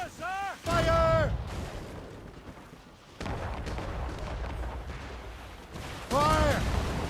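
Warship cannons boom in the naval game Assassin's Creed Rogue, with heavy low blasts rumbling out between bursts of shouted voices.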